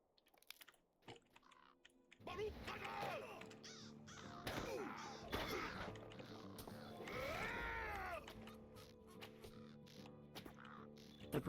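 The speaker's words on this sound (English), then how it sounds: "The bird just laughed at me." Crow calls from the Lord of the Rings Online game, a series of harsh rising-and-falling caws repeated over several seconds against a steady game ambience, with a faint voice briefly early on.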